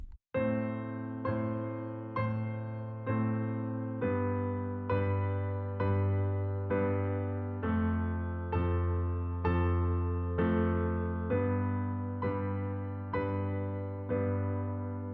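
Piano plays a right-hand improvisation pattern over a sustained bass, with repeated evenly spaced chords and notes in a steady rhythm. The playing is clear, moderately loud and close, with no voice.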